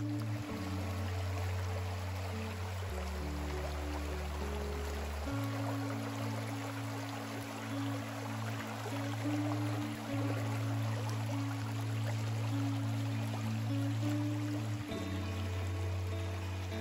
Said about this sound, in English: Little creek coming in right here.